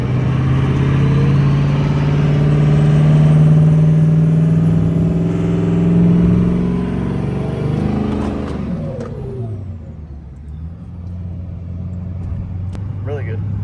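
Duramax LMM diesel truck engine with a VS Racing S467 turbo revving up through the gears, a loud rising drone that swells, then drops off into quieter running, with voices talking over it.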